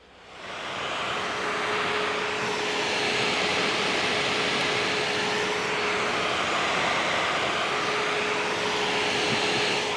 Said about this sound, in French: Il fait beaucoup de bruit parce que mine de rien, il y a un ventilo turbine dedans et vu qu'il chauffe, du coup il fait beaucoup de bruit.